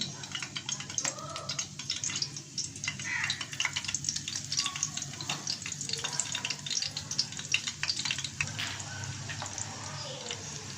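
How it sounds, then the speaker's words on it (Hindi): Spinach leaves fry in hot oil with a continuous crackling sizzle and scattered pops, moderately quiet and steady throughout with no speech over it. "अब मैं आपके सामने पालक के पत्ते जो हैं वो फ्राई कर रहा हूँ"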